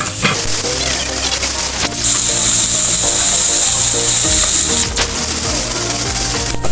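Garlic and onion sauté in a hot pan for pork and chicken adobo, giving a loud, continuous crackling sizzle with bursts of stirring and scraping close by.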